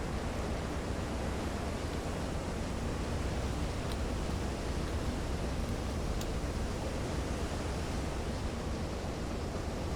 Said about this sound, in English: Our boat plowing through these waves.